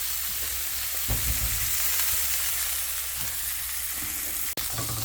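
A burger patty for a bacon burger sizzles steadily in a hot pan, a constant close frying hiss with a few soft clatters and no talking.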